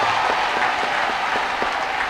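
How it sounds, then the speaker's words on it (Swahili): A church congregation gives a dense, continuous round of applause, many hands clapping at once in an even, fairly loud wash of sound. "Hebu mpigieni makofi mazuri."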